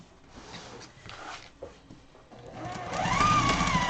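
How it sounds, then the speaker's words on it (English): Sewing machine stitching together two pieces of Jordon Fabrics pillow fabric for an 18-inch pillow, quiet and intermittent at first, then running steadily and louder in the last second or so. "And now you want to sew again. I got these two"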